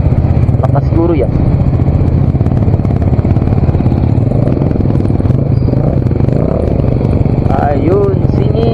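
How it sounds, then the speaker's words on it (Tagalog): A Yamaha Sniper motorcycle with a custom exhaust runs loudly and steadily on a night ride, a constant engine drone dominating throughout, with brief rising tones from passing traffic. "Unique din ang tambutso niya."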